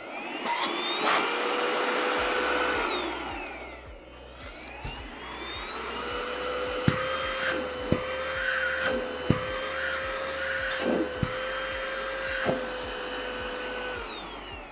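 A Karcher CVH handheld car vacuum whirs up to a high, steady whine, dips briefly, then runs on with occasional clicks and pitch wobbles, nearby.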